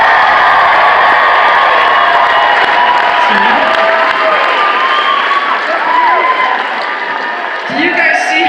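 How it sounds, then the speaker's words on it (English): A packed Las Vegas theater crowd at a live concert roars with sustained applause and cheering, a dense, loud wash of clapping, whoops and shouting voices that barely dips over several seconds. "Do you guys see how like that applause just like burst out of you?"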